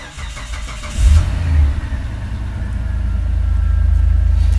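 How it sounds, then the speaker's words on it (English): A 2004 Mitsubishi Pajero GDI engine cranks briefly and catches, then settles into a steady, loud, close idle rumble that holds to the end. "Let's start the car."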